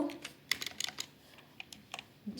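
Keys clatter on a computer keyboard in quick irregular bursts, close and moderately quiet, with short pauses between runs of keystrokes and no voices.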